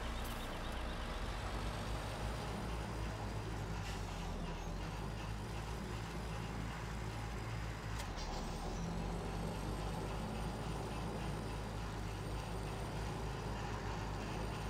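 A truck in Farming Simulator 17 drives with a steady, dense engine drone throughout, broken by two brief hissing bursts like air-brake releases, set in a winter farm scene with no talk.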